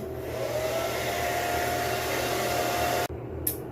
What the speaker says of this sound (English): I have it blow dried out now